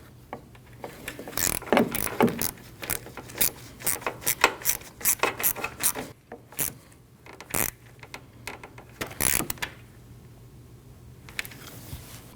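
Rapid clicking of a ratchet tightening a transmission line bracket screw on a Ford Escape, in bursts of short strokes, close and crisp, with brief pauses between runs and a quieter stretch near the end.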